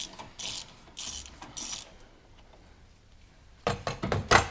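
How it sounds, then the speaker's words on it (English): Half-inch drive ratchet clicking while turning a big bolt on a car subframe, short bursts of sharp ratcheting with a pause, then a louder quick series of clicks close by. "I didn't even really need the half-inch drive like I thought I would for such a big bolt."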